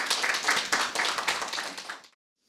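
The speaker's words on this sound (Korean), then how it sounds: "박수로 모셔주십시오" Audience applause welcoming a presenter at an open rice forum, a dense burst of many hands clapping close and loud for about two seconds, then stopping abruptly into silence.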